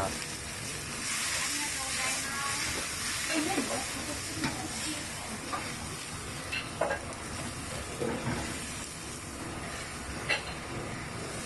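Minced meat sizzling as it is stir-fried for spicy miso ramen at a food stall, a dense continuous hiss with scattered scraping and clattering of the spatula, and a voice talking faintly underneath.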